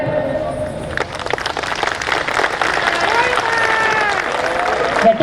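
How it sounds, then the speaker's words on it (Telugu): Dense, steady clapping from an audience at a Hindu community gathering in H.B. Colony Basti, filling the room for about five seconds with faint crowd voices mixed in. "గట్టిగా చప్పట్లు."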